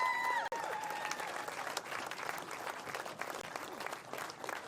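Steady crowd applause fills the air for the Australian under-18 baseball team at the WBSC Men's U18 Oceania Qualifier grand final against New Zealand, dense and sustained with a brief dip near the start.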